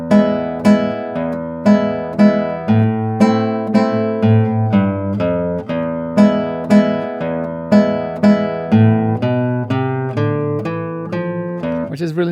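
On Spanish guitar, a variation of Malagueña unfolds as a loud, close, steady stream of plucked melody notes over ringing bass strings, played alone without any talking.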